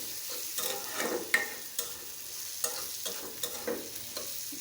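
Beef tripe fries in a pan with a steady sizzle, punctuated by repeated sharp scrapes and taps of a spatula stirring it at an uneven rhythm, close and moderately quiet with no talking.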